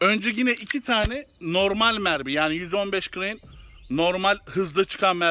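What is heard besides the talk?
None of the usual background noises is heard.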